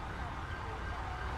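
Ambulance sirens in GTA 5 as ambulances pull in to respond to an airplane crash in the Zancudo area, a steady continuous wail with vehicle noise blended into a busy, dense scene.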